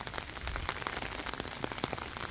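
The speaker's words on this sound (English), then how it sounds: "Rain in the pond." Steady rain patters on a pond, a dense mesh of soft drops with sharper individual splashes scattered throughout, close by.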